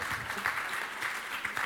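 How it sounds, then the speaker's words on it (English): A conference audience applauds steadily with dense, even clapping, close and fairly loud, and no talk over it. "you may applaud."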